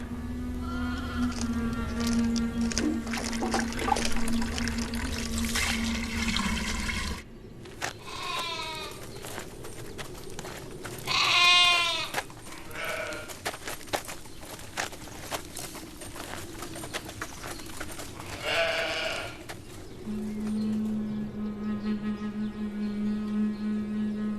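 Sheep bleat repeatedly at a Byzantine church site, several moderately loud calls rising over outdoor ambience with hoof-like clopping and insect buzz, and no speech.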